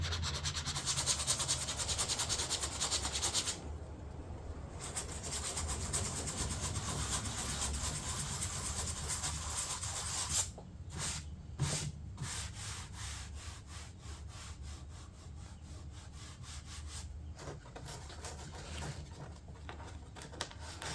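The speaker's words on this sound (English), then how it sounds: "I've already begun sanding a little" Hardened filler is sanded on a fiberglass door panel with continuous rasping strokes, broken by a few brief pauses near the middle and end.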